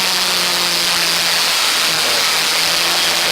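Historic Formula Ford race cars at Donington Park, heading down the front straight into Redgate Corner, give off a steady loud engine drone with no clear breaks and no talk over it.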